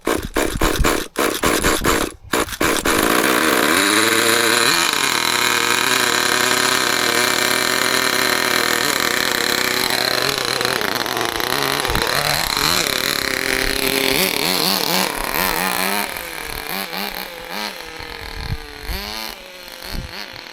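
A vintage Kyosho Sandmaster 1/10 2WD nitro RC buggy engine catches after a few sputters, then runs loud and steady with revving pitch changes before easing toward a rougher idle.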